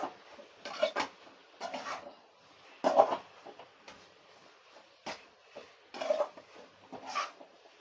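Prawn masala with drumstick and potato being stirred in a pan, a spoon scraping and knocking against the metal in irregular bursts of clinks and scrapes, close and moderately quiet, with no talking.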